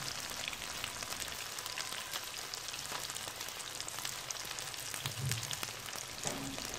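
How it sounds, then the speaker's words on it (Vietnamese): Vegetarian ribs frying in hot oil over medium heat in a small pan, a steady dense crackling sizzle with scattered sharper pops throughout. "Dầu vừa nóng thì mình cho sườn vào mình chiên"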